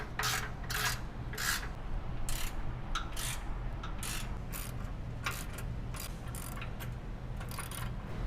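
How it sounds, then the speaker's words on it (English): A ratchet with a socket tightens the side bolts on 2005-2023 Toyota Tacoma rock sliders, giving quick bursts of close, crisp clicking that stop and restart repeatedly, with no talking. "Now we're going to tighten down the side bolts, the 1/2-inch and the 3/8."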